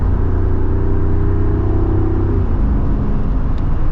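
A 2025 Jeep Wrangler 392 V8 accelerates at partial throttle, a loud, close, steady engine rumble and drone that shifts in tone partway through, with no talking.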